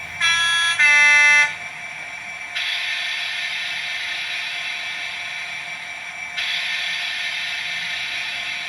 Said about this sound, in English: Other sounds include a selection of air horns and brake release.